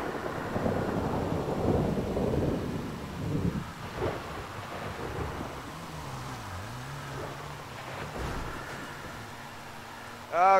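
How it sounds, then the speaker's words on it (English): Rain hisses steadily while low thunder rumbles, with a few synthetic tones and a sharp electronic sound at the very end. "Oh no, it's raining."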